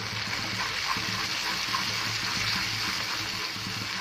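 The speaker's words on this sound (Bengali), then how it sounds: "তাহলে আমি কষিয়ে নিচ্ছি।" Goat brain sautéing with spices in a pan, a steady moderate sizzle with occasional stirring, and no one talking.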